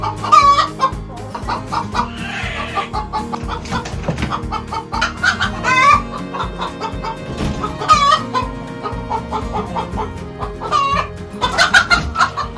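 Chickens in a coop with nest boxes cluck and squawk continuously and close by, with repeated rising calls breaking out over the steady murmur of the flock.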